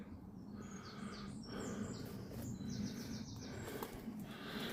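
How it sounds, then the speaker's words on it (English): Birds chirp softly outdoors near a rural trailer property, faint scattered calls over a steady background hiss with no talking. "You can hear the birds and everything."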